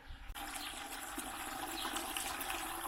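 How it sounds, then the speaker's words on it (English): Water rushes steadily from a green hose hooked to a farm hydrant, filling buckets beside a barn in winter; a continuous broadband hiss begins abruptly after a brief quiet moment and holds level and close. "hook up our green hose to our hydrant and power it on, and the water goes up"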